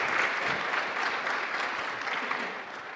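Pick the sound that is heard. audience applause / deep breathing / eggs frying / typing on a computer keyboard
audience applause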